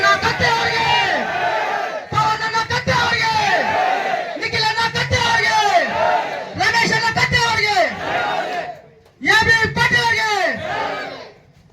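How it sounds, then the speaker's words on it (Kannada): A large crowd at a village election campaign rally in Shiragaon shouts a loud chanted cheer in about five strong, rhythmic bursts, each separated by a short pause. "ಎಲ್ಲರೂ ದೊಡ್ಡ ಜೈಕಾರ ಹಾಕ್ರಿ ಉಮೇಶ್"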